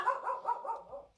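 A dog gives a quick run of about five yappy barks in just over a second, close and fairly loud, with no talking.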